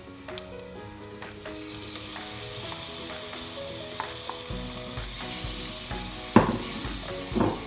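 Bottle gourd and dried shrimp bhaji sizzle in a pan while being stirred, soft frying crackle with intermittent scraping strokes and a couple of sharper clinks near the end, close and moderate with no talk.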